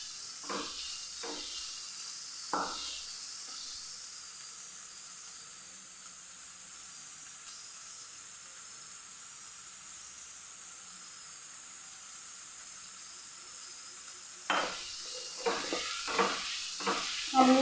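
Chopped onion with salt sautés in a pan with a soft, steady sizzle and hiss, opening and closing with a few stirring scrapes and clatters, no speech.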